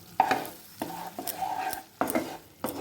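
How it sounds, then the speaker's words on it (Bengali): A spoon stirring and scraping a spice paste with cashew and poppy seed paste in a pan, for a Bengali vegetarian aloo dum over low flame: four close, distinct strokes of scraping with a soft sizzle underneath. "তার সাথে সাথে অ্যাড করব এই কাজু বাদাম বাটা, দিয়ে 2 মিনিট হালকা আঁচের পরে লো ফ্লেমের উপর কষাবো।"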